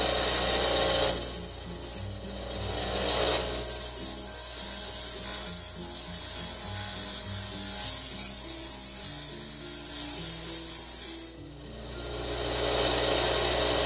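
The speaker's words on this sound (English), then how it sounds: "I've got a grinder, so I'm going to use the grinder." Angle grinder rounding off metal tines in a workshop, a loud, steady abrasive whine and rasp that dips briefly twice between passes, with no talking.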